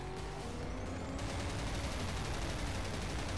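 Rapid gunfire rattles in GRIP, a racing video game, as weapons fire at a rival car. The shots come in dense bursts over a loud, constant roar of the engine.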